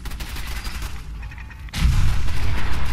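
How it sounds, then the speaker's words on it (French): Explosions and gunfire fill the combat in Fallout 4 as a rapid crackle of shots, then a heavy deep boom lands and rumbles on loudly to the end, with no voices. "ça explose de partout"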